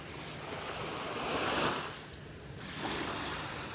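Calm ocean waves washing gently onto a beach in North Naples, Florida, two soft swells rising and falling over a steady hiss of surf and light wind, no voices.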